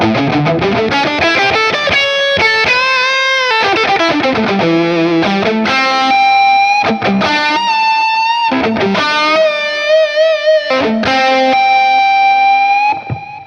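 A heavily distorted glass electric guitar plays a fluid lead line with bends, tapped notes and long sustained tones, loud and alone.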